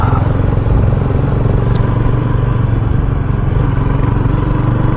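A RUSI Classic 250 motorcycle out on an early morning ride gives a loud, steady engine drone with constant wind rush throughout and no talking.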